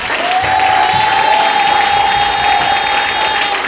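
A church congregation applauds steadily and loudly throughout, a dense, continuous wash of clapping with a sustained tone ringing over it and no break in the applause.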